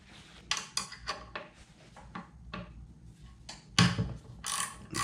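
A ratchet wrench clicks in short bursts while loosening 10mm bolts on a CT200-U engine during a cam swap, with metallic clatter of tools between the ratcheting runs.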